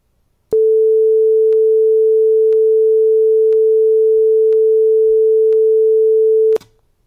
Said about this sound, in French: en jouant le La3 pour un signal de forme sinusoïdale